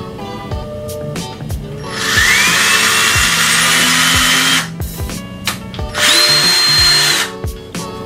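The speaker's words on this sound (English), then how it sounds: "I might just drill it so that just the screw can go in." A power drill whirs loudly in two long bursts, drilling a screw hole while building an IKEA dresser, with a short pause between them and some clattering handling noises around.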